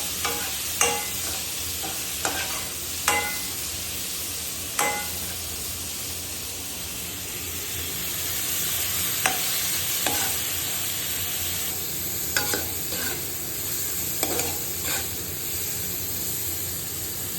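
Onions sauté in oil with plenty of garlic for adobo; a steady hiss of frying runs throughout, punctuated by irregular clicks and scrapes of a spatula stirring the pan.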